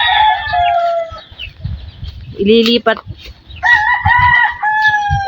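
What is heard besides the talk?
chickens and small chicks clucking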